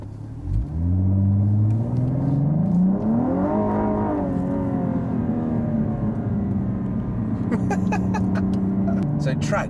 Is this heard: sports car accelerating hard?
yes